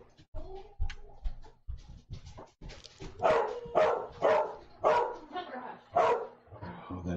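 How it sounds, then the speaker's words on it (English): A dog barks in a run of five or six loud, evenly spaced barks, close and clear. Quieter clatter and a voice come before them, in a reaction to a LEGO Darth Vader transformation set. "Oh, that dog."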